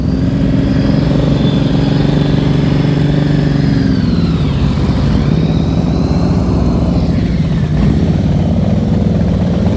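Motorcycle engine loud and close throughout slow-speed riding practice, a steady low idle-like drone with a brief dip and rev change near the middle.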